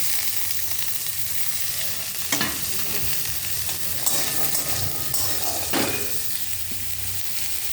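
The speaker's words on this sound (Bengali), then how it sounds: "এই যে আলুটা ভাজতে" Potatoes fry in a pan with dried chilli, asafoetida and bay leaf, giving a steady, close sizzle broken by a few sharp spoon scrapes as they are stirred, with no one speaking.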